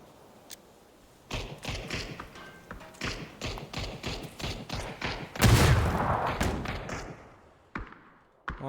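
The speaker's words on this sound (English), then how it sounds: "Oh no, Snickers ran into a bullet." Rapid bursts of gunfire from a PUBG esports match, a dense run of sharp repeated shots with a heavy loud cluster near the middle, fairly close and without talk.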